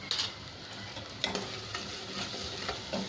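Onions and besan roast and sizzle in a pan, a steady hiss of frying broken by occasional stirring scrapes and clicks, fairly quiet and with no talk.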